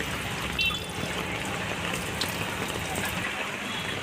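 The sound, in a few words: heavy monsoon rain and flood water in Mumbai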